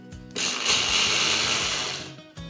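A kitchen mixer grinder whirs loudly as it coarsely grinds a cup of sabudana (sago pearls), starting abruptly, holding a steady high-pitched roar for about two seconds, then cutting off.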